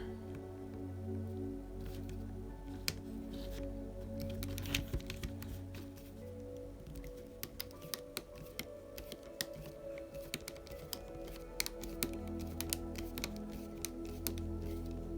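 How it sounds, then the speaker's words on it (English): A screw is driven into the hard plastic of a DT-02 RC buggy chassis, giving faint, close, irregular small clicks and creaks against a low background hum. "And let's screw this in."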